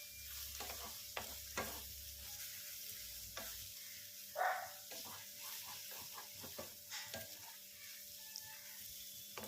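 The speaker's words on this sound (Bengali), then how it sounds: "ওই ডিমটাকেও সবজির সাথে এইভাবে 2 মিনিট ভালো করে ভেজে নিতে হবে।" Egg frying with vegetables and vermicelli in a pan, a quiet steady sizzle broken by frequent scraping strokes and clinks of a spatula stirring, heard close with a brief hiss of steam partway through and no talking.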